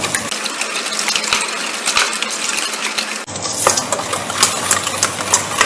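Cookie dough being stirred in a bowl after an egg is added for choco melt cookies, with a busy run of clinking, scraping utensil strokes on the bowl, loud and continuous, and a sudden change in background hum partway through.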